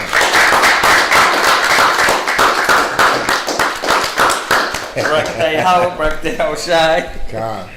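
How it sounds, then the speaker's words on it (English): Loud, close applause from a school class audience, rapid dense clapping that thins out after a few seconds as voices and chatter take over near the end. "let's give that a round of applause"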